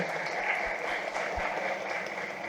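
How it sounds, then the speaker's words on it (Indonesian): Audience applause at a ceremony inaugurating new doctors: a steady, moderately quiet wash of many hands clapping together, sustained evenly throughout with no break and no voices above it. "Kita sampaikan aplaus yang meriah"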